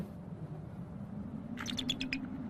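A female bald eagle sitting on a nest in heavy snow gives a short series of sharp, high screaming calls, about five quick notes over a steady low background rumble, heard from a moderate distance.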